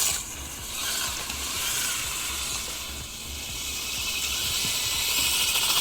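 A brushless RC crawler spins its tires on a slippery, snow-covered concrete slab, giving a steady high motor whine with hissy churning of snow that runs unbroken and fairly close, with no talking.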